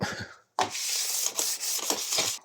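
Steady rubbing strokes of a whetstone along the blade of a STIHL HS 45 hedge trimmer, close and fairly loud, a short pause near the start and then continuous scraping passes with slight rhythmic dips.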